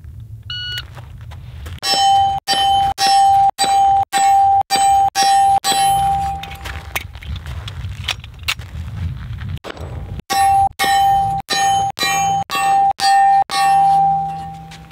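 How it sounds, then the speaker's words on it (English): Pistol shots fired by a shooter on the move strike steel targets in two quick strings, each sharp crack followed by a bright ringing clang, with a pause between the strings. The shots are loud and close. "we're gonna do it moving and shooting now"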